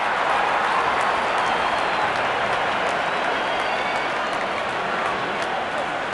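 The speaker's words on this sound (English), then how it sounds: "And there comes the celebration and the crowd loves it." Stadium crowd in a cricket video game, India versus England T10 match, a dense continuous roar of cheering and applause that stays loud throughout the whole stretch.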